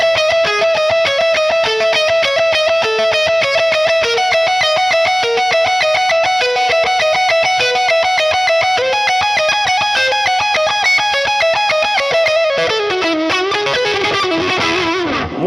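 A Gibson electric guitar on its neck pickup plays an intro through a distorted, effects-laden tone, as a steady, sustained run of fast repeated notes that ends with a final ringing chord, with no talking.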